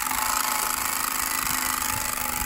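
A turbo spoke exhaust fitted to a bicycle, heard while riding, makes a steady buzzing drone like a small engine that holds fairly loud and constant throughout, with no voices.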